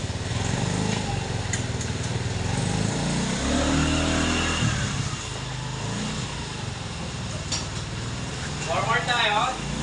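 A fully automatic 200cc 4x2 UTV farm vehicle engine runs in reverse with a rough, rising and falling mid-pitched drone, with people talking nearby.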